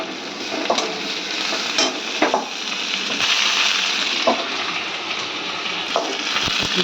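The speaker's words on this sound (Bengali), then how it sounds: "তাই তেলের মধ্যে একটু ভেজে নিচ্ছি" Crushed garlic frying in oil in a pan, a steady close sizzle with occasional scrapes and taps from stirring.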